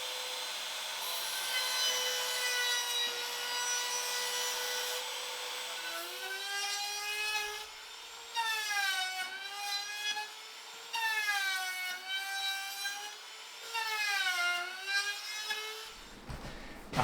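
Airflow from a homemade woodworking air purifier box, whistling wind noise with a steady hiss, then tonal sweeping rises and falls in repeated waves, fairly close and loud, no talk.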